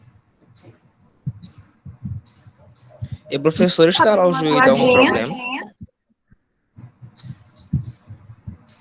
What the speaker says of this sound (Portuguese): Eu tô escutando um passarinho.